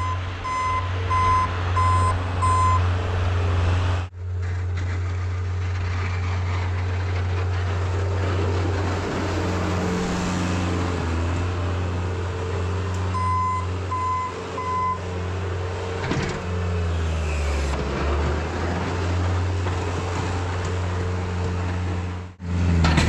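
A Bobcat skid loader plows snow from a driveway, its diesel engine droning loud and steady throughout, with repeated high reversing beeps as it backs up and scraping of the blade on pavement.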